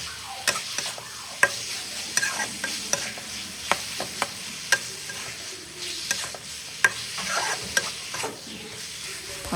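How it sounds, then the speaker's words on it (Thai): Onion and green chilies stir-fried in a pan: a steady close sizzle punctuated by repeated sharp scrapes and clacks of a utensil against the pan at an irregular, brisk rhythm, with no talking. "จากนั้นก็ใส่หอมใหญ่ลงไปตามด้วยพริกชี้ฟ้าเขียวลงไปแล้วก็ผัดทุกอย่างให้เข้ากันอีกรอบค่ะ"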